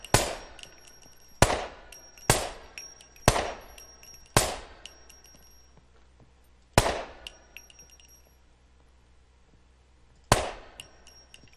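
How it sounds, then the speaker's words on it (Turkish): Sharp gunshots ring out in the survival video game SCUM, about eight loud single cracks spaced irregularly, each with a ringing metallic tail and echo, with no talking over them. "silah sesi"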